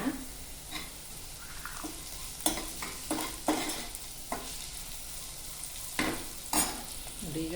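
Salted onions fry over a medium flame for a pumpkin palya, with a steady close sizzle broken by repeated scraping stirs of the spatula in the pan.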